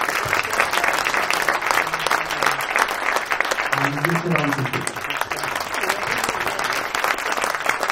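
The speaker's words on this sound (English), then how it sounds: "another round of applause, please, for our soloists" A youth jazz orchestra audience applauds its soloists with steady, dense clapping that runs the whole stretch, while a voice speaks briefly over it.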